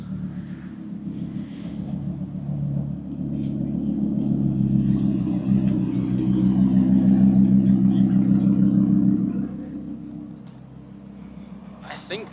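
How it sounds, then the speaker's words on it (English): A Lamborghini Huracan arrives at a JDM, Euro and V8 street meet, its engine a deep, steady rumble that swells as it draws near, then fades, with people chatting in the background. "Everyone's favourite Lamborghini Huracan's turned up."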